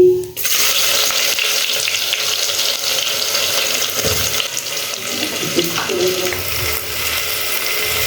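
Whole cumin seeds and chopped onion frying in hot oil, a loud close crackling sizzle that flares as they hit the pan and then holds steady, with faint stirring knocks and no talk.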